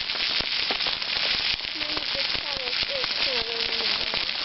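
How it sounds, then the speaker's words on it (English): Steady, loud sizzling and crackling of bacon frying in a pan outdoors in steady rain, with occasional voices talking over it. "let you watch the pleasure of bacon cooking"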